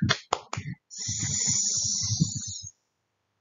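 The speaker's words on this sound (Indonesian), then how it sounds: "Mari kita ikuti tepuknya ya." Rhythmic clapping of a children's snake-clap chant in a classroom lesson: a few sharp claps, then a continuous hissing sound over a patter of quick beats, stopping abruptly, with one last clap at the end.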